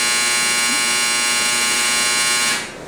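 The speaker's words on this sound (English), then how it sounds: "That's the dryer." A dryer runs with a steady, loud, close electric buzzing hum that holds constant for over two seconds, then drops off sharply as it winds down at the end.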